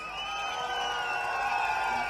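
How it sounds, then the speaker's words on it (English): A distant crowd at a People's Action Party election rally in Sembawang, Singapore, cheers and whoops in a steady, faint roar. "Give them a round of applause."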